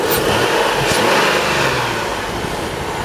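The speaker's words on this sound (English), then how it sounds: "But you hear this bad engine?" A faulty engine in a Chrysler Pacifica recovered from a scrapyard runs steadily, a continuous rough, loud mechanical roar with no break throughout.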